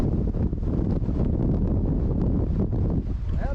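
Strong wind buffeting outdoors in the castle gardens of Glenveagh National Park, County Donegal, a loud, continuous rushing roar with gusty swells that stays close and unbroken throughout.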